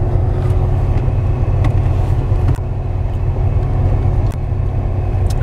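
Interior of a moving car, a loud steady low rumble of engine and road noise with faint rattles, continuous and close with no voices.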